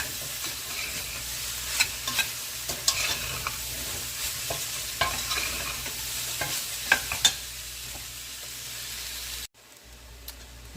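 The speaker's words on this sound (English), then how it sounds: "Stir around." Chili con carne stirred in a frying pot: a soft background sizzle broken by irregular scrapes and knocks of a spoon against the pot, briefly cutting out near the end.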